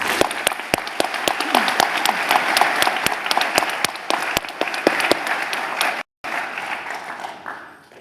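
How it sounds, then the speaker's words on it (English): Audience applause at a pharmacy white coat ceremony at ETSU's Bill Gatton College of Pharmacy, a dense, steady round of clapping from a large seated crowd lasting several seconds, with a brief gap before it tapers off. "Let's give them a well-deserved round of applause."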